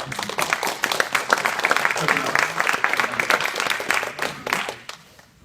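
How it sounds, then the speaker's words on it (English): Audience applause at a SolidWorks user group meeting, a dense run of clapping from a room of people lasting about five seconds before fading out at the end. "let's give him a round of applause first"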